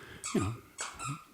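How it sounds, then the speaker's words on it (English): A dog chews a squeaky toy indoors, producing two short squeaks in quick succession with a nasal, rubbery pitch, faint and somewhat distant. "If you hear squeaking in the background, that is the dog Vinny with a squeaky toy"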